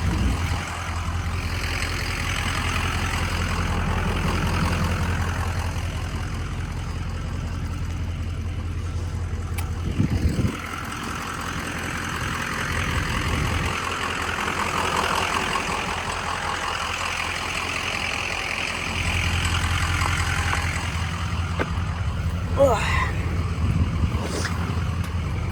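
A 2003 Ford F350 Powerstroke diesel dually pickup runs with a steady low engine rumble and drone, shifting slightly in pitch and load as it idles and moves, with a brief thump partway through and no talk.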